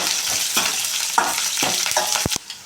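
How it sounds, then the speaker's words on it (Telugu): Curry leaves and dried red chillies fry and crackle in hot oil for a tomato rasam tempering, with a steady loud sizzle, stirring scrapes and a few sharp pops near the end. "కరేపాకు ఇప్పుడు ఒకసారి కలుపుకున్నాము బాగా ఎర్రగా ఎగనివ్వాలి దోరగా"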